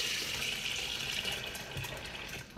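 Liquid pours steadily into a pot while achu soup is being cooked, a continuous close hiss of running liquid with no talking over it.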